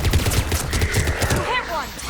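Sci-fi combat gunfire from Mass Effect 3 rattles in quick, repeated bursts, loud and close. Voices talk over the shooting and sci-fi effects during the firefight.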